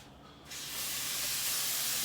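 Steak hits a hot skillet with a sudden burst of sizzling and steam, the hiss swelling louder and staying broad and continuous, close by with no talking.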